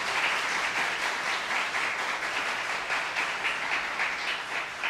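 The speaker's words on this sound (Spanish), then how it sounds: "¿Quiénes no le dan un aplauso fuerte al Señor por ese hecho?" Church congregation applauding during an evangelistic service, a dense, steady wash of many hands clapping close by that holds for the whole stretch with no voices.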